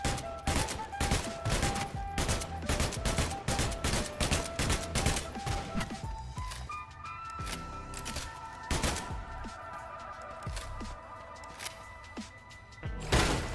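Sustained video-game gunfire including sniper shots: dense, rapid volleys of loud cracks and thumps, then sparser single reports and scattered hits, with no voices over the din.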